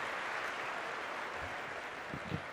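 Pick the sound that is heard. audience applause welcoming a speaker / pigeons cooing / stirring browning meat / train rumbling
audience applause welcoming a speaker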